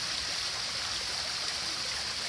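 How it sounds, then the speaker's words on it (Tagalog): A small waterfall rushes in a steady, even wash of water noise, close and continuous with no voices over it. "Waterfall to."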